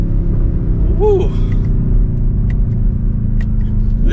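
A 2023 BMW XM SUV's engine droning loud and steady from inside the cabin, with a quick rising rev blip as the paddle shifters drop a gear, then a sustained low rumble.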